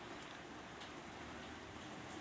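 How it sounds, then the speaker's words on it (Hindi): Steady rain falls outside a home, a dense, even hiss of drops on surfaces holding at constant level throughout with no voices. "आज बाहर बारिश पड़ रही है"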